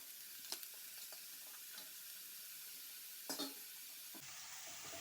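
Chopped mushrooms frying with onions in a pan, a steady soft sizzle broken by a few brief stirring clicks and scrapes, with a louder hiss swelling near the end.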